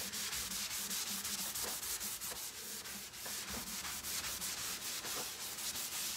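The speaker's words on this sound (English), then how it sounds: "I'm gonna just keep rubbing and busting with the flat surface. I'm really putting some elbow grease in here to buff it" Cloth buffing black wax into the flat surface of a wooden multi-drawer chest, a continuous loud close rubbing hiss with rhythmic back-and-forth strokes and no voices.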